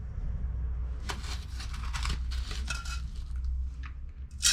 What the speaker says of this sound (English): So we'll just quickly put some of these in, spoon some